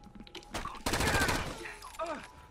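Light machine gun in the video game Rainbow Six: Vegas 2 fires a rapid burst into a sofa, a dense rattle of shots lasting under a second, with game sound effects before and after.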